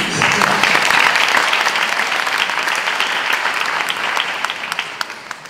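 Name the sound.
audience applause at a conference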